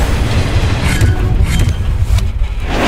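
A subway train rumbles through a metro station in the puzzle-horror game DARQ, a loud, continuous roar with rhythmic clattering of wheels and no voices.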